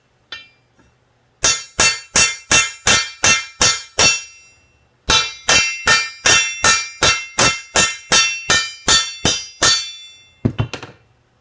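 Hammer blows ring on hot steel while blacksmith tongs are forged, a steady run of about seven sharp strikes, a short pause, then about twelve more in even rhythm, ending with a few quick lighter taps; loud and close, with no talking.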